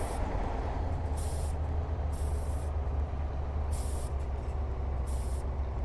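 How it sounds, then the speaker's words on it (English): Air hisses from the driver's air-suspension seat of a Setra 303-series coach in the bus simulator OMSI 2, sounding as several short bursts over a steady low engine rumble, with no talking. "You're wondering what that hissing sound is? That is the air in the chair."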